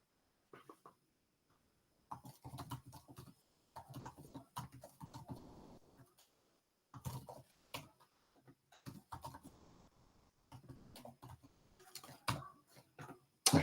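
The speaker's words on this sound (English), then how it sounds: "Let me just type this in again." Code being typed on a computer keyboard, irregular bursts of quick, close key clicks separated by short silent pauses, quiet and dry.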